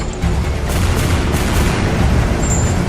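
Gunfire from a staged military drama scene filmed with Indonesian troops in Aceh, heard as a loud, sustained rumble of booming shots that stays dense and continuous throughout, with no clear gaps between blasts.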